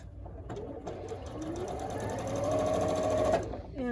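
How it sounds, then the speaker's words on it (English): Sewing machine stitching quilt blocks for Broken Dishes and Firefly patterns, a steady close whir that ramps up in speed and pitch before stopping, with faint talk alongside. "I'm going to pick this up and I'm going to start sewing this"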